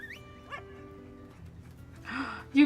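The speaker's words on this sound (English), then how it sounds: "You get a dog!" A dog's yips and whimpers in a video game teaser trailer, faint and mixed with a soft tonal music bed, then a short sharper bark-like burst near the end.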